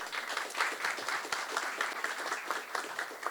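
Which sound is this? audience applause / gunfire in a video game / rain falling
audience applause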